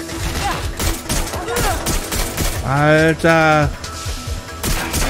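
Gunfire in the video game Watch Dogs: Legion, a burst of repeated shots with sharp impacts mixed among game sounds while someone talks over it.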